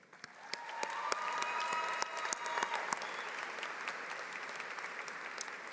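An audience at the Harpur College of Arts and Sciences 2024 commencement ceremony applauds the faculty, producing dense, sustained clapping from a large crowd that swells quickly and then holds steady, with no voices.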